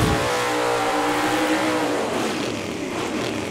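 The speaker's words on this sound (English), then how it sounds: "All right, the cars are burned out" Big block Chevrolet Chevelle and a Mustang doing burnouts on a drag strip, a loud continuous engine roar with rising revs that dissolves into a broad hiss of spinning tires.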